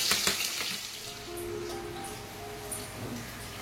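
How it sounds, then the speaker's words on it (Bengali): Paneer pieces fry in a pan with a soft, low sizzle close by, steady throughout, with a few light clatters near the start. "এখানে দেখো আমি পনিরগুলোকে ভাজতে দিয়ে দিয়েছি"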